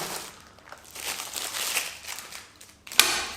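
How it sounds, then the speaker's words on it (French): Plastic packaging of a first aid kit from a Woncrow survival kit being opened, giving a run of close crinkling and crackling with a sharper tearing snap near the end. "Donc pour le kit premier soin, alors, on va l'ouvrir."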